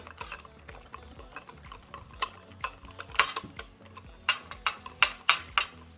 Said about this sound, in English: So make sure you whisk it very well.